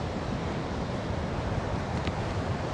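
Gulf surf churns on a Florida beach, a steady, soft wash of waves mixed with wind rushing over the microphone.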